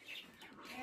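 Chickens on a small farm with a donkey and dogs cluck softly and briefly, a faint, close bird murmur set against quiet background noise.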